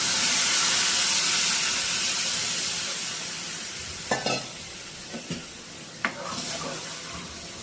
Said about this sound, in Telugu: ఇప్పుడు మనం ముందుగా గుజ్జు తీసి పెట్టుకున్న చింతపండు రసాన్ని అయితే ఇలా పోసేస్తున్నాను.